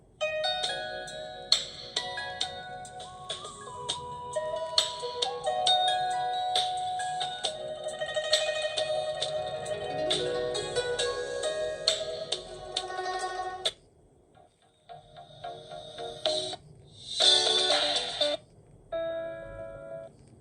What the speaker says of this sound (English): here are the samples of music stored in smartwatch